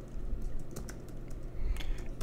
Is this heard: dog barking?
no